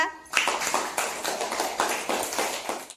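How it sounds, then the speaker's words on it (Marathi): Children clapping at school in quick, uneven rhythm for a few seconds, close and fairly loud, ending abruptly. "टाळ्या वाजवा"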